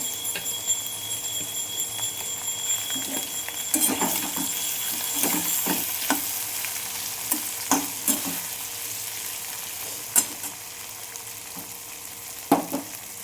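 Green chilli and ginger paste sizzle in hot oil in a pan, with a spoon stirring and scraping in scattered knocks and taps over a steady frying hiss.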